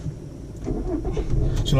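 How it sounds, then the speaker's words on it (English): A manual car's engine cranks and catches, its low rumble building and settling into a steady idle close by, with faint voices in the background. "to start the car, you need to put the clutch down"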